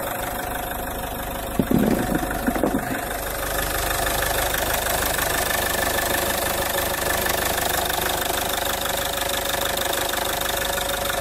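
A car engine idles steadily in its open engine bay, a loud, even mechanical hum with a rhythmic knocking texture, a few brief clanks near the start, then a constant drone with no one talking.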